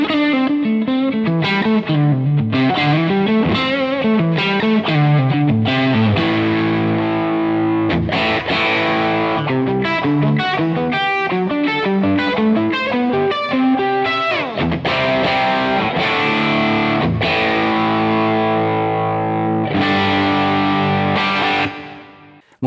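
An electric guitar plays lead lines through a Two Rock Bloomfield Drive amplifier, driven and sustained notes and bends ringing continuously and loudly, ending with a sudden cutoff.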